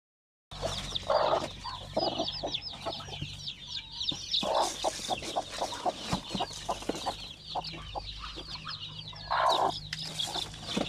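Native hens and their chicks feeding, with constant high chick peeps, repeated hen clucks, and bursts of pecking and scuffling close by.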